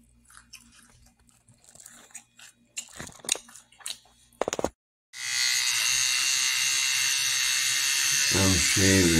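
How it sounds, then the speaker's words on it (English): An electric razor shaving, starting abruptly after some quiet rustling and brief chewing-like noises, then a loud continuous close buzz that runs to the end. "I'm shaving real quick."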